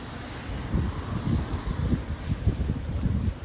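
Wind gusts buffet the outdoors on a rainy, dark night with a steady low rumble and rustle, rising and falling in bursts; no voices.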